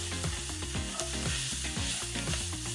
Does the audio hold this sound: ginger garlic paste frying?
yes